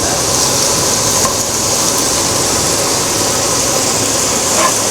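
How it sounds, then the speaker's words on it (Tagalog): A kitchen exhaust fan runs during cooking of braised beef, making a loud, constant whooshing drone that stays even throughout. "Saka tong exhaust, buksan natin konti."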